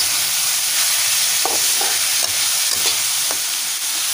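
Cabbage stir-fried in a hot pan for street-style egg noodles gives a steady, close, loud sizzle, with a few soft scraping stirs breaking through and no talking.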